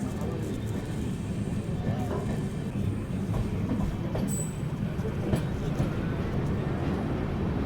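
An LHB-coached Tirunelveli–Purulia SF Express pulls out of Cuttack Junction railway station, heard from aboard as a steady low rumble and rattle of wheels and carriages, with faint clicks and a brief squeal, and some voices in the background.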